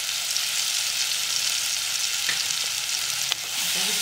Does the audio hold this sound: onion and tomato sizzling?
yes